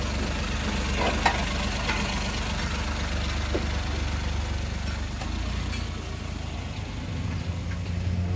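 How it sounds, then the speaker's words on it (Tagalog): A Suzuki engine idles steadily with a low, continuous rumble from close by, a few faint clicks and taps on top and no talking. "Umaandar ang engine ito ngayon. Ayan ang engine."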